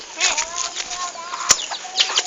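Chickens cluck and squawk close by while wings flap in bursts, with a sharp snap partway through.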